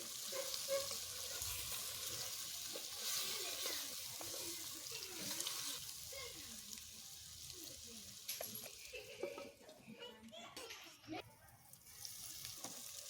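Chicken sizzles and fries steadily in a clay pot in a village-style kitchen, a continuous soft hiss with a few clinks and stirring scrapes, fairly quiet throughout.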